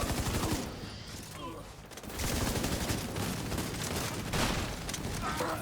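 Rapid bursts of turret gunfire in a video game, a dense, continuous fusillade of shots with booming impacts, loud and close throughout, with a brief dip in intensity before the firing resumes.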